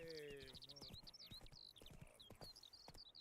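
Horse hooves clip-clop in a video game, a brisk, close rhythm of hoof strikes. A short whinny comes at the start and bird-like chirps sound lightly in the background.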